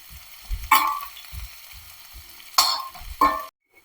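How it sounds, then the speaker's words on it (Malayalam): Finely chopped onion fries in coconut oil in a pan with a low sizzle, broken by a few sharp scraping stirs close by before the sound cuts off. No voices are heard. "സവാള നൈസായിട്ട് അരിഞ്ഞത് നമുക്കൊന്ന് വറുത്തെടുക്കാം"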